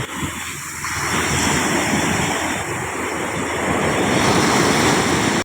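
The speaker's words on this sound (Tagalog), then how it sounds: "Kasi may alon" Steady ocean surf roars continuously, with waves washing in and wind buffeting the microphone; no voices.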